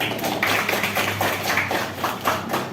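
A group at an academic coaching and supervision session applauds with a steady patter of many hands clapping close by for about three seconds, with no speech over it.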